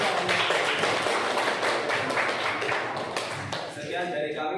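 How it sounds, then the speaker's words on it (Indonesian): An audience at a school music session claps together, producing dense, fairly loud clapping that runs steadily and thins out near the end, with a brief tonal ping at the close. "silakan beri tepuk tangan untuk"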